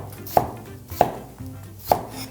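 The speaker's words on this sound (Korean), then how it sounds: "토마토는 쓱쓱 썰어주세요" A knife chops tomatoes on a board, three crisp, close thuds spaced unevenly over a faint background.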